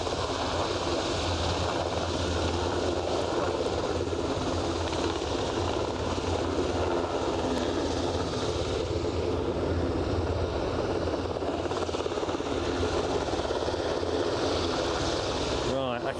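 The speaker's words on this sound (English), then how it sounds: "See the ATR scooting along." An ATR turboprop aircraft taxiing at Aberdeen airport gives a steady, moderately distant propeller drone, with someone talking over it throughout.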